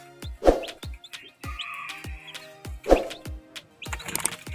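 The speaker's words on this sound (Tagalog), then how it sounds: "Marami-rami na rin ito. Mga sisiw dito." Newly hatched chicks chirp in a series of short, high peeps, with two louder bursts of chirping standing out against a quieter background of scattered calls.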